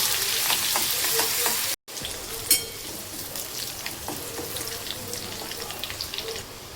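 Cumin seeds, curry leaves and crushed garlic sizzle steadily in a little oil for a Vidarbha-style peanut amti, with a brief cutout partway and a sharp crackle just after, plus faint scraping of a spoon.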